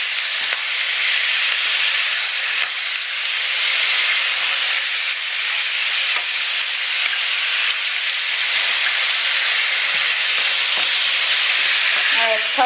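Steady, loud sizzling of chicken frying in a hot pan, a continuous crackling hiss with occasional pops, no talking.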